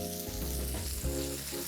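Vegetables for Turkish menemen eggs sizzle and fry in a pan, a steady crackling hiss with a faint, low, tonal hum beneath, close and continuous with no talk.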